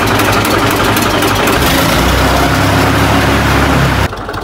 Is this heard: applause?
no